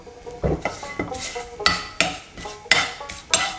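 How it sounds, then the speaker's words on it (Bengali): Five or six dry bay leaves are roasted in a dry pan, and a utensil stirs them with repeated light metallic clinks and scrapes against the pan. The strokes are close and roughly even, with no voices. "পাঁচ ছটা আমি তেজপাতা দিয়ে দিচ্ছি এটা খুব আমি শুকনো খোলায় ভেজে নেব"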